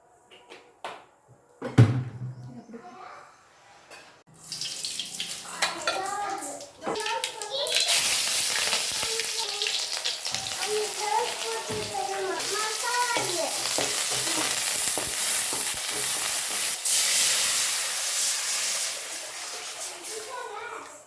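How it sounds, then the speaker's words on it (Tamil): Turmeric and spices hit hot oil in a home kitchen while tempering for a simple lunch, a soft clatter of hands and utensils giving way to a loud, sustained sizzle with stirring, and a voice chattering over it. "அடுத்து மஞ்சள்தூள் எல்லாத்தையும் போட்டு நல்லா மிக்ஸ் பண்ணிவிட்டு தாளிச்சிடலாம்."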